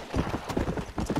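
Horse hooves in Red Dead Redemption clip-clop in a quick, steady rhythm, close and clear, with no voices over them.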